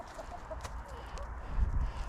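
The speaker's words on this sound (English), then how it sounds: "But I gotta watch out for those 2 roosters now." Chickens and two roosters cluck at a homestead gate, a few soft, short clucks and murmurs heard faintly up close over a quiet background, ending with a brief low thump.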